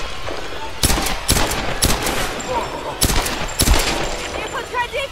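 Gunfire in the 2013 Tomb Raider video game: sharp, loud rapid shots in several bursts, with game voices and a player talking in between.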